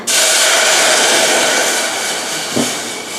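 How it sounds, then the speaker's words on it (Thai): Water poured into a cooking pot in a home kitchen, a steady, loud broadband rush that runs unbroken for about three seconds, with a brief lower thump near the end. "ใส่น้ำลงไปในหม้อนะคะ"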